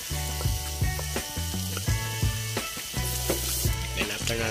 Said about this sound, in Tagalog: So ayan, lagyan na natin ng bawang. Gigisa natin ng mabuti.